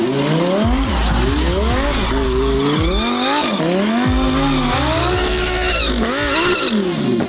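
Lamborghini engine without its intake restrictor revs hard and throaty in a sustained, loud run of rising and falling pulls, close by with no talking over it.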